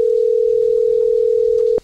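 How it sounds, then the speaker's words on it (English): A telephone ringback tone synthesized from two mixed sine waves with the SoX tool hums loud and steady for nearly two seconds, then cuts off abruptly. "when you call, you'll hear some sort of ring there, so you know"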